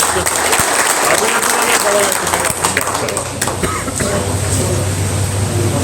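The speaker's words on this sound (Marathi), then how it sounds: "या सर्वांचं आपण या ठिकाणी या बैठकीत टाळ्या वाजवून त्यांचे आभार मानावे" A crowd at a political meeting claps steadily throughout, a dense rattle of applause with a voice speaking over it.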